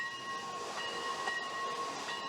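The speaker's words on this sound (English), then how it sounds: "Trains are also very interesting to watch" A passing train makes a steady rumbling hiss with faint tonal whistle-like lines, continuous and fairly close throughout.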